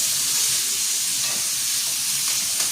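Green chilies and onions fry in a pan for a Jaffna-style dinner, giving a steady, loud broadband sizzle throughout with a few faint scraping stirs near the end and no talking.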